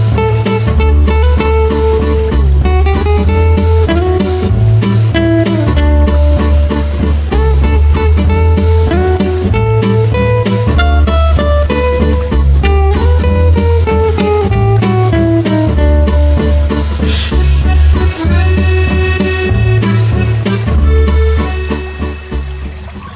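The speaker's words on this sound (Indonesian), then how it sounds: "Berganti dengan nyanyian jangkrik yang riuh berderik, tanda malam akan tiba." Crickets chirp at dusk in a dense, shrill, unbroken chorus, blended with melodic background music that carries on throughout.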